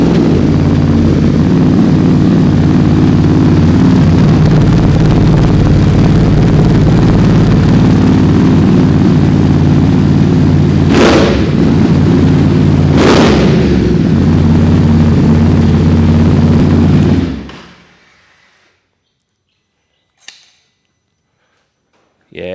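Ducati Desert X motorcycle with an SC Project decat exhaust idling loudly and steadily with a deep low rumble and a couple of brief blips, then cutting off abruptly into near silence.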